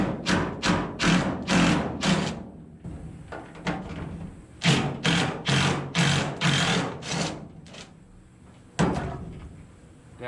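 A steering column being pulled down and out of a Volkswagen Beetle during a Baja/Franken Beetle build, giving a series of close, repeated thumps and knocks in uneven bursts, with brief pauses between.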